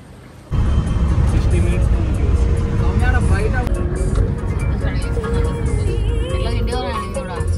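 Inside a car driving to the airport, a loud steady engine and road rumble fills the cabin, with voices talking over the drone.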